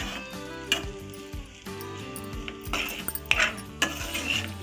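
A spatula scrapes and clinks against a pan while mixing egg fried rice, with several irregular metallic knocks over a low sizzle and a faint background hum.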